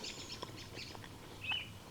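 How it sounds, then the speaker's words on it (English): Two robins and a group of baby robins calling near a tent campsite in late spring rain, giving short, scattered chirps and tweets at moderate distance over a constant rainy hiss. "I hear 2 robins and a bunch of babies."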